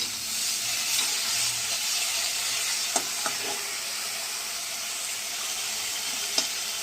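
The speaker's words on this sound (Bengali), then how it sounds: "দিয়ে বেগুনটাকে একটু তেল ছাড়াই আমি ভাজা ভাজা করব।" Eggplant seasoned with salt and turmeric dry-frying in a pan with no oil, a continuous soft sizzle with a few sharp clicks of a utensil stirring, close and alone.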